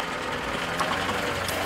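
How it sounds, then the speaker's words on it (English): A 1970 Land Rover Series 2A engine braking on a downhill run gives a steady, loud, close drone with a low rumble underneath and no one talking. "So it's still all engine braking working us down the hill."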